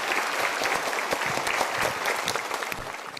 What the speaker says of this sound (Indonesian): Kita berikan tepuk tangan untuk 3 orang ini.